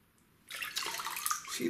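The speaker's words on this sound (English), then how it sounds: "Watch for the bubbling." Water churns and bubbles close by around an Olympus Tough TG-5 camera submerged in water, after a brief quiet start; a busy wet gurgling that swells and stays loud to the end.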